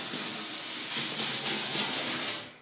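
A model train runs through an automatic reversing loop on Piko track, a steady, close rolling hiss and rumble of wheels on rails that fades out at the end, with no voices.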